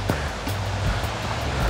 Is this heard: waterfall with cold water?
yes